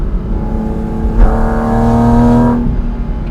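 A Porsche Cayman GT4 RS engine sounds loud and close on a Swiss Alpine pass. A rumbling drone swells into a strong, steady high-rev pull, then eases back to a lower growl.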